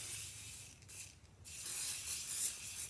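Spray paint hisses from an aerosol can onto a fall porch decoration in a steady broadband rush, with a brief pause midway before the spraying resumes, close and moderately loud with no talking.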